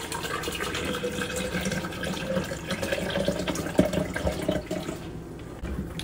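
Coconut water pouring into a cup at home, a continuous splashing and trickling fill with a brief clink partway through, close and steady without speech.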